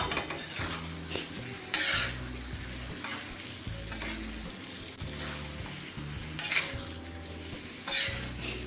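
Cauliflower chicken fry with kasuri methi is stirred on a tawa: repeated metal scrapes and clanks of a spatula over a steady sizzle, with several sharper knocks spaced through the stretch.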